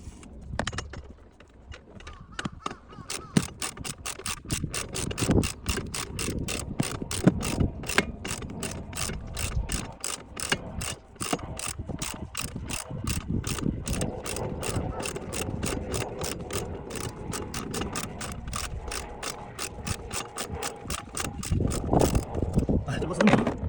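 Ratchet wrench backing out a long screw on a BMW 523d, a rapid, close clicking that runs almost throughout in uneven bursts, with some handling noise at the start.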